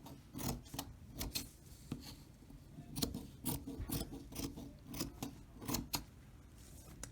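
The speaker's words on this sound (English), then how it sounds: "just measure about 1 inch and then just cut your strips" Scissors cut fabric into strips about an inch wide, a series of crisp snips and crunches spaced unevenly, up close and fairly quiet with no talking.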